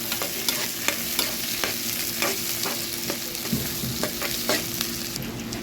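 Garlic and green chilies frying in a pan for an okra pachadi, stirred with a spoon that knocks the pan in a regular rhythm of scrapes over a constant close sizzle, no voices.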